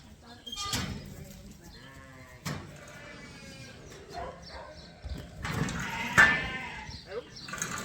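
Sheep bleat repeatedly, several near calls overlapping, while lambs are sorted for market on a farm; people talk over and between the calls.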